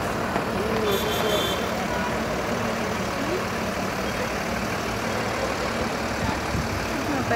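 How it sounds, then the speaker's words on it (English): Roadside petrol pump at the hill station of Lonavla in India, with a steady low truck engine idling nearby and a brief burst of high reversing beeps early on, under a constant wash of ambient traffic noise. "This is my petrol pump."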